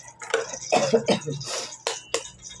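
A person coughs and clears their throat several times in quick, raspy bursts, close by and moderately loud.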